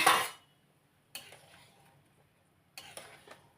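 A lid lifted off a pot of chicken soup gives a sharp metallic clatter, followed by two further clinks of the lid or utensil against the pot, each brief and close with quiet gaps between and no talking.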